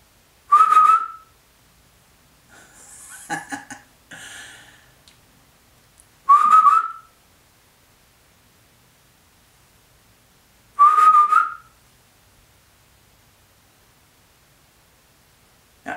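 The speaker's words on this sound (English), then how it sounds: "Every time he looks away," A person outdoors whistles short, sharp rising notes to catch a puppy's attention, three separate bursts spaced several seconds apart, with faint rustling between them.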